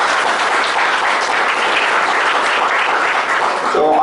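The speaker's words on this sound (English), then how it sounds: "So please give a big round of applause." Audience at a half-day GST returns workshop bursts into sustained, dense applause that holds steady and loud for the full stretch, with many hands clapping together and no talk over it.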